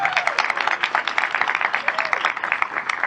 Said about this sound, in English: Everybody give a round of applause for Hayden.